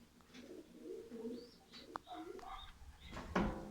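Young homing pigeons in a loft give soft, low coos and a few faint chirps close by, with light clatter in the background.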